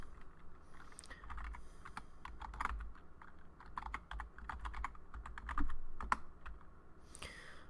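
Steady typing on a computer keyboard while configuring a Cisco switch, a close, continuous patter of individual keystrokes with a few heavier presses, and no one speaking.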